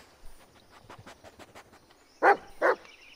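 A dog in the Blair Witch video game barks twice, sharp and fairly close, after a stretch of faint rustling and soft footsteps.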